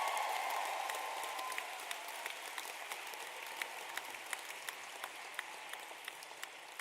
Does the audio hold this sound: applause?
yes